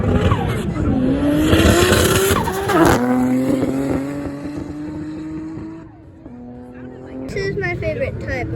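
A McLaren 570 tears past at speed at a wings and wheels event in Utah, its engine a loud rising and falling roar, with a second pass near the end. Voices and crowd noise sit underneath.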